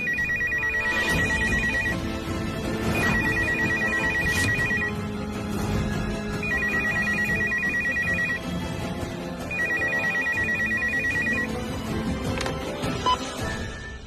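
A telephone rings in repeated electronic trilling bursts, roughly two seconds on and one off, over a busy background of dramatic music and ambient noise in a television drama scene.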